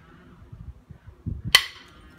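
A single sharp percussion strike on a flint nodule rings out once, short and bright, following a few soft low thuds.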